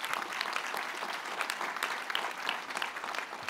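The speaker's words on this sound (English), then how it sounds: "one more round of applause for them won't do any harm" A graduation ceremony audience applauds the Koç family with steady, dense clapping that holds evenly throughout, moderately loud and without voices over it.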